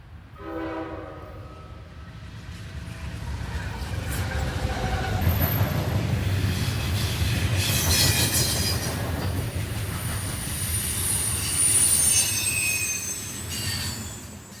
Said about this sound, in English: a westbound manifest makes its appearance